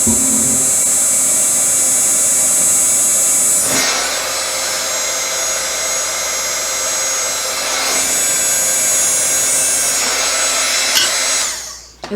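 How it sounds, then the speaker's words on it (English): An electric heat tool blows steadily for about twelve seconds while melting embossing powder on a stamped paper card, a loud continuous whirring hiss that shifts slightly in tone as it is moved, then cuts off at the end. "let me grab my heat tool so I can hold it"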